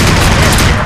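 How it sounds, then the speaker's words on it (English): Submachine gun fire in the video game NecroVision, a loud, dense burst of rapid automatic shots that fills the whole short moment without pause. "Going through pretty quick with this SMG"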